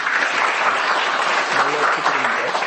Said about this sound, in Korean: 오랜만에 오셨는데 박수로 한번 환영하시죠.